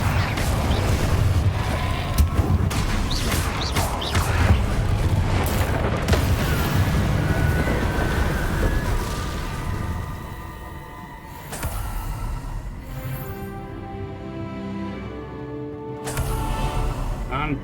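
Confringo explosion spells blasting in Hogwarts Legacy, several loud booming bursts layered over dense game music and combat noise, one after another through the first half, then quieter effects.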